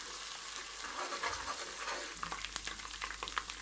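Chillies frying in hot oil in a pan for an aloo matar curry, a steady close sizzle with scattered crackles and pops, with no talking.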